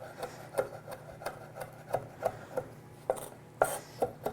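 A knife slices salmon pieces free against a board, soft scraping strokes punctuated by about a dozen light, evenly spaced taps, close and quiet with no talking.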